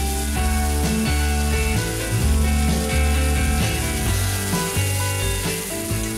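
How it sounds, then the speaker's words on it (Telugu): Chopped tomato pieces hit a hot pan of spiced oil with turmeric and start frying, giving a steady close sizzle that holds without a break. "ఆ తర్వాత తరిగి పెట్టుకున్న టమాటా ముక్కల్ని ఇందులో వేసుకోవాలి."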